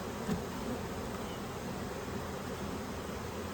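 Honey bees hum in a steady, dense drone close by while a hive is opened and inspected, the buzzing constant and unbroken throughout with no voices.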